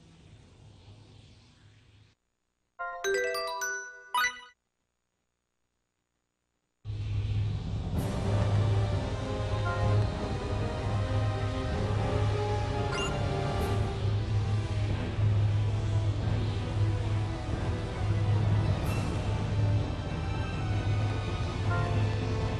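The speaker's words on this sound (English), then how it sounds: "It's the sound of my ocarina." An ocarina in the video game Star Ocean The Last Hope sounds a brief run of clear, high notes lasting about a second, and a loud, continuous low rumbling ambience follows it.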